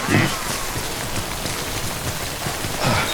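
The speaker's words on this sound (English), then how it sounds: "So it's raining because we're getting into BT" Steady rain falls in the video game Death Stranding, a dense broadband hiss of drops on surfaces that continues throughout, with brief low thumps near the start and end.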